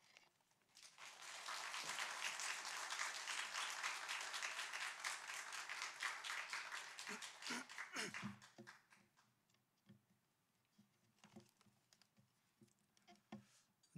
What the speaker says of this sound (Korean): 나오실 때 우리 사랑을 담아 큰 박수로 환영하도록 하겠습니다